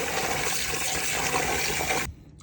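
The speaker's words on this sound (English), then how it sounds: "Wash the liver with water." Liver is rinsed under a running tap, making a steady, full rush of water that cuts off abruptly near the end and leaves a faint quiet tail.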